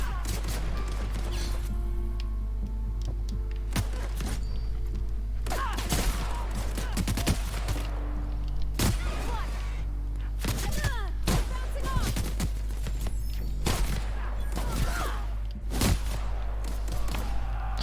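Shotgun blasts in The Outer Worlds video game, repeated heavy booms at irregular intervals amid a loud combat soundscape with a constant low hum, with brief voices now and then.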